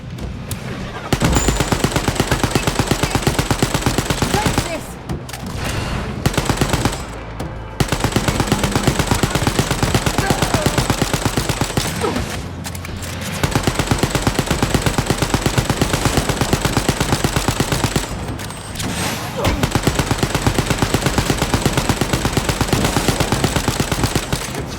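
Long sustained bursts of rapid automatic fire from a new gun in Wolfenstein Youngblood, loud and dense, broken by a few short pauses between volleys.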